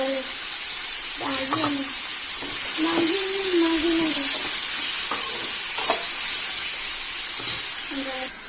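Radish chutney ingredients sauté in a hot pan with a steady bright sizzle throughout, broken by scraping stirs and short tonal squeaks from the spatula.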